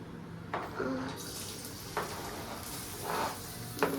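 Onion dropped into hot oil for egg rice, giving a steady sizzling fry with a few brief bursts of louder crackle and stirring, close up, no talk.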